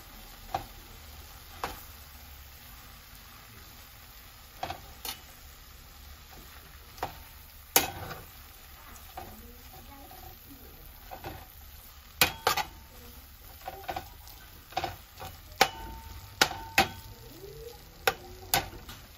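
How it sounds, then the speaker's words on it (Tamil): Masala with dried fish (masi) being stirred in a pan for onion dry fish chips, a soft steady sizzle broken by irregular sharp scrapes and clicks of the spoon against the pan, close and fairly quiet. "மாசி மசாலா வந்து இதில் போடுறோம். போட்டு நல்லா மிக்ஸ் பண்ணிக்கோங்க"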